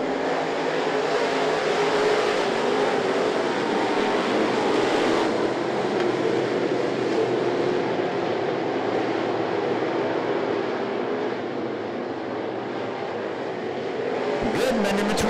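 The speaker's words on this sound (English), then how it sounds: "Goodman and Elrod leading the field to the green." Crate late model race cars roar around the I-75 Raceway in a dense, continuous engine drone that stays loud and steady throughout, with a few sharper bursts near the end.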